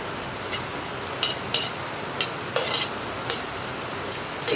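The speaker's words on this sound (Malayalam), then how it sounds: "ഇതിലേക്ക് നമുക്കിനി നമ്മൾ കട്ട് ചെയ്ത് വെച്ചിരിക്കുന്ന ക്യാപ്സിക്കവും തക്കാളിയും ചേർത്ത് കൊടുക്കാം." Capsicum and tomato being stirred into sautéed onion in a pan while making Kerala egg roast, giving a series of short scraping, sizzling bursts at an irregular rhythm, close and moderately loud, with no talk.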